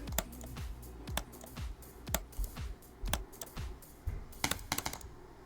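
Rapid, close clicks from a mouse or keyboard while a video game level is practised, sharp ticks in irregular clusters over a low steady hum.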